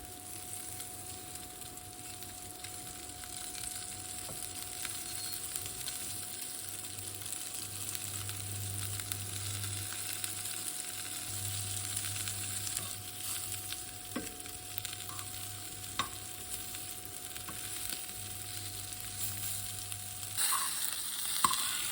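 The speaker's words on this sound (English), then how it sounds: "sear your meatballs until most of the sides are golden brown" Meatballs searing in oil in a pan over medium-high heat, a quiet steady sizzle and crackle with occasional stirring and scraping, close but faint, no voices.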